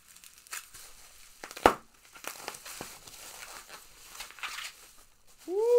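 Packing tape being torn and peeled off a parcel of British snacks, with faint crinkling and scratchy ripping bursts, close and quiet, ending in a short rising squeaky screech.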